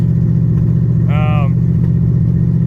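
A V8 engine idles steadily nearby with a popping misfire from one bank of cylinders, a low continuous rumble interrupted by a brief harmonic tone partway through.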